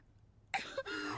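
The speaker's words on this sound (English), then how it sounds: "you're coughing up blood." A character in the Naruto anime gives a short, harsh cough after a moment of near quiet, with a breathy, strained tail.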